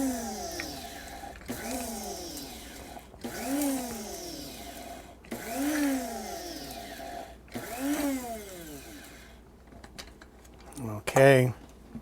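A blender grinds fresh mint for harissa in five or six short pulsed bursts, each whirring up in pitch and then winding down, close and moderately loud, with a brief clatter at the end.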